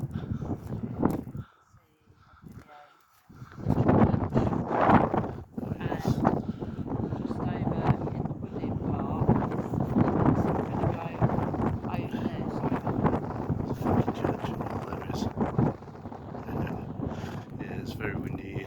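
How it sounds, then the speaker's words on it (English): Strong wind buffets the microphone on a coastal hike near a lighthouse, roaring steadily for most of the stretch after a brief lull near the start, with talk mixed into the gusts. "Very windy here."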